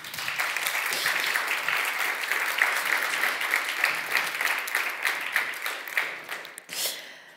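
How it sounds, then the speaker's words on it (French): An audience claps for a speaker at an eloquence tournament final, dense and steady applause from a crowd that fades out near the end. "sous les applaudissements"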